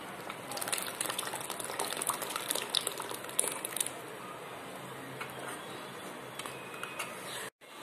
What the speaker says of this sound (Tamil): இப்போ பார்த்தீங்கன்னா இது கொதிச்சு நல்லா திக்காயாச்சு